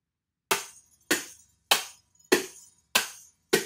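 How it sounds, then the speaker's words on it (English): A wire whisk is struck six times at an even pace as a kitchen band instrument, each hit giving a bright metallic clink with a short ringing decay of wires jangling against each other. "Now I almost get more vibrations from the wires hitting each other."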